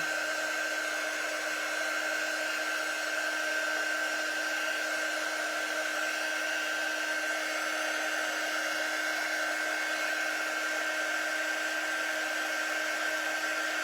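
A hair dryer runs without pause, blowing to dry fresh paint on a vintage truck door hanger, a close, loud, constant whir with a strong steady tone and no talking.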